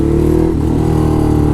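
A Ducati Hypermotard motorcycle engine revs loudly and close by, a steady throaty drone that dips slightly midway then holds, with no talking.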